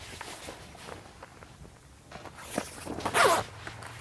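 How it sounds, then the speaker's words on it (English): Soft rustling and handling noises of fabric as a privacy enclosure curtain is fitted, then a quick, bright zipping sound near the end as it is zipped into place. "and zip it into place."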